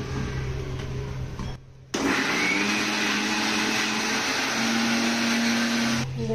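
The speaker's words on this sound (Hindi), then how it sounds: "अब इसको पीस लेंगे मिक्सी में" A kitchen mixer grinder blends ingredients for pani puri water, with a short start followed by a loud, continuous whirring roar that holds steady for several seconds.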